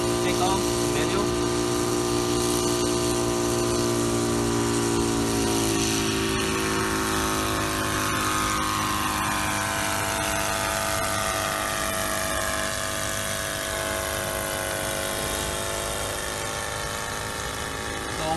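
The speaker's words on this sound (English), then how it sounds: "I'm gonna do a manual takeoff and then go into position hold." An SK1000 UAV helicopter lifts off under manual control and holds a hover, its rotor and engine giving a loud, continuous droning whine with steady harmonic tones for the whole stretch.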